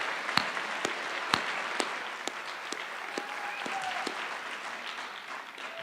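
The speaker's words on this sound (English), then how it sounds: "Please help me give Trent, Daniel, Joseph, and Kaya a warm round of applause." An audience at a high school graduation ceremony applauds the graduates, a steady wash of clapping with a few sharp, louder claps standing out, lasting several seconds and gradually thinning toward the end.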